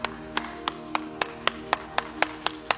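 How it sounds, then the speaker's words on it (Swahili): A group in a church gathering claps in slow, even unison, about ten sharp crisp claps evenly spaced in a steady rhythm, fairly near, with a low murmur of room noise between them and no talking. "Makofi kidogo."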